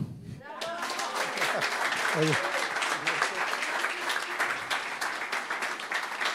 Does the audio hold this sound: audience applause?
yes